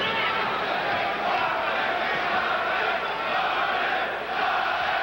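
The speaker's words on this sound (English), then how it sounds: "Crowd starts to chant Marvin, Marvin" A boxing arena crowd at a middleweight title bout chants a fighter's name, a broad sustained roar of many voices carrying steadily through the hall with little variation.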